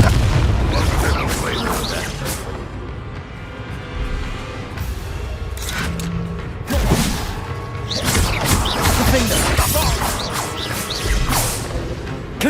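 Confringo spell explosions in Hogwarts Legacy, several booming blasts and crashes with whooshes spread through a noisy combat scene, with someone talking over parts of it.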